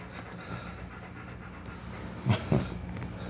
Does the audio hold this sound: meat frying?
no